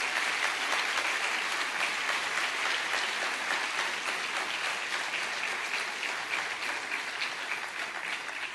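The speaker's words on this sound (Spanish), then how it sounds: "Dale un aplauso al Señor de alabanza" A church congregation applauds during a Spanish-language sermon, a steady, dense wash of clapping from many hands that holds even and full for the whole stretch.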